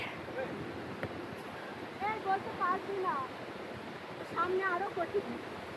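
A waterfall and fast, steep stream near the Atri Muni Ashram in Uttarakhand give a continuous broadband rush, with a few chirping calls over it.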